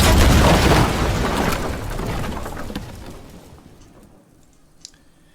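A Fortnite Rift Gate being destroyed in the video game: a loud, deep rumbling blast that slowly fades over several seconds and leaves a faint, thin tone at the end.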